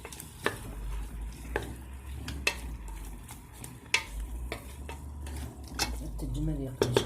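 Food frying and being stirred in a pan while cooking a fennel gratin, with sizzling and scattered sharp scrapes and knocks of a utensil against the pan, heard under a person talking.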